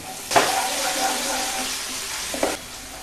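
Ginger, green chili, garlic and spring onion stir-frying in hot sunflower oil, a loud close sizzle that swells as ingredients drop in, with brief scraping and stirring bursts near the start and end.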